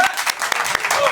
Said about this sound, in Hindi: तो एक बार ताली बजा दीजिए मेरे उत्तराखंड के लिए